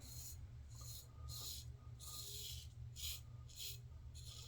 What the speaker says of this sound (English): Being aluminum, it does make a bit of a different noise.